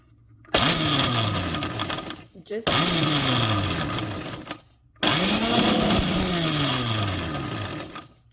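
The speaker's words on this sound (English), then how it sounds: "First, let's grind our chilies, okay? It should be coarse." A blender grinds dried chilies for chili oil in three loud pulses of a few seconds each, with the motor whirring up and down. Short silences fall between the pulses.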